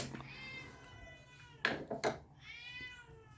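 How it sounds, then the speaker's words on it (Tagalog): A pet cat meows several times in the morning, drawn-out cries near the microphone, with a couple of sharp clatters of dishes or objects between the calls. "Nandito na naman yung alaga kong pusa, si Minggoy."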